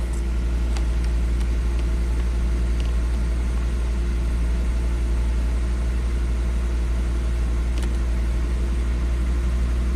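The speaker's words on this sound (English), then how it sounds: "Key on. Okay, normal startup." A 2005 Volvo XC90 Turbo engine idles steadily with a constant low rumble and a faint hum, close by and unchanging, with a few small clicks but no distinct start-up crank heard.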